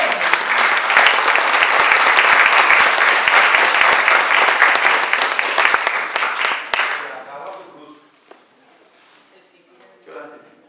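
A church congregation applauds during a sermon, a loud dense burst of many hands clapping for about seven seconds that quickly dies away, followed by a preacher's voice speaking in the quiet hall.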